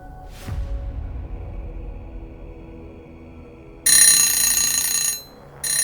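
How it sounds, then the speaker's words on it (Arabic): An alarm clock rings in sharp, loud electronic bursts, first one long burst, then a brief pause and another starting, after a quieter stretch of low background noise with a faint click. "صحيت تاني يوم على صوت المنبه الساعة 9."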